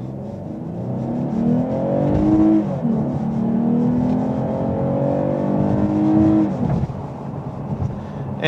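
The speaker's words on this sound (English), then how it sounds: "we're gonna see what it sounds like on a second acceleration run without the artificial engine noises." A Lexus IS350 F-Sport AWD sedan with a 3.5 liter V6 accelerating hard with artificial engine sound turned off, its engine note rising through gears with audible shift dips, heard from inside the cabin.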